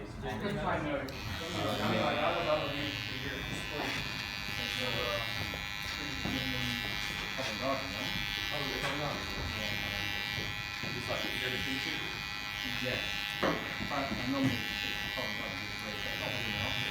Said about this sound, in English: Rest I'm going to clip over, comb it out.